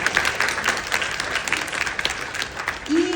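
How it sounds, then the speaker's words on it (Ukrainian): A conference hall audience applauding themselves, a dense sustained wash of clapping from many hands with a voice cutting through near the end. "Давайте поаплодуйте самі зараз собі."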